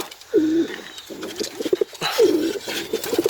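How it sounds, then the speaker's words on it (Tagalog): Domestic pigeons coo in a Filipino loft, with two clear rounded coo phrases close by, each a low throaty burble, with soft rustling and faint chirps in between. "Saka kunin din natin tong anak ni Raya mga kalapatids."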